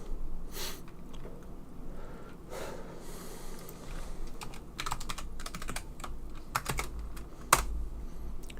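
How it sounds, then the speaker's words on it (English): Computer keyboard typing in quick, irregular bursts of clicks, heard over a faint background hum during a Warhammer 40,000: Space Marine gaming session, with some sharper keystrokes standing out. "I can hear the typing."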